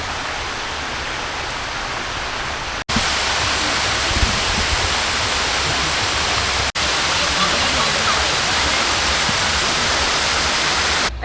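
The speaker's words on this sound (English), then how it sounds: "I thought I would just pop and see the waterfall" Waterfall near Hellfire Pass in Kanchanaburi, Thailand, heard up close as a loud, steady rush of falling water that never lets up, with a short break in the middle.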